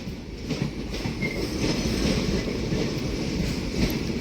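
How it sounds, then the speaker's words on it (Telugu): Old ICF passenger train on the Shivamogga–Tumakuru line running along the track, a steady rumbling clickety-clack with faint wheel squeal, moderately loud and without talk. "బాగా ఓల్డ్ ట్రైన్లో ఉంది"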